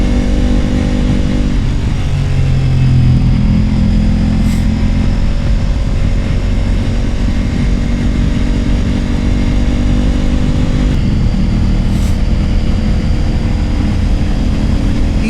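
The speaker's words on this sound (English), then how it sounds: "Each of these bikes have such a distinctive sound" Several motorcycles ride together on a group New Year ride, their engines droning loud and steady throughout with a deep low rumble and shifting pitch as the bikes cruise side by side.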